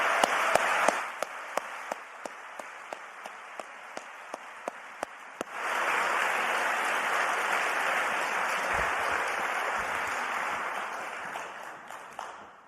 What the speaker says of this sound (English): Please join me in giving all of our Jacobus Fellows one more hearty round of applause.